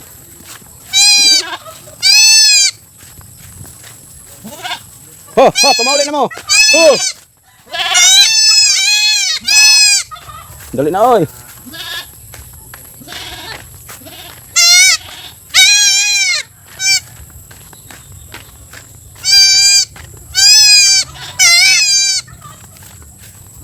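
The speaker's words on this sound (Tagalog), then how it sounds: "Hindi pa man masyadong makalakad yung bagong inanak nga kambing." A newborn goat kid, still unsteady on its legs, bleats again and again in thin, high, wavering cries, with a person speaking briefly in between.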